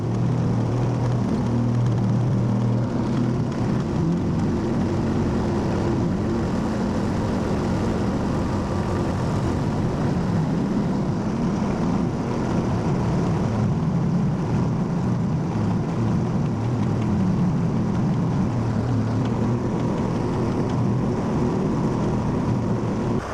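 A backhoe bears down to drive a pivot stop into hard pan on a farm, its heavy diesel engine droning low and steady throughout, close and loud with no break.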